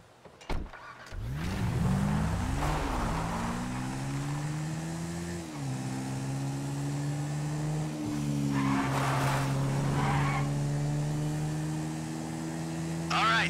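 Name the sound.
car driving in video game GTA V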